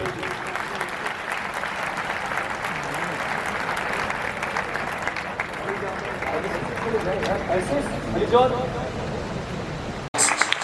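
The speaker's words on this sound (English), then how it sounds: "Please applaud him." Sustained applause fills the hall at a school prize distribution ceremony, a dense, steady wash of clapping from the audience lasting several seconds, with a brief break near the end.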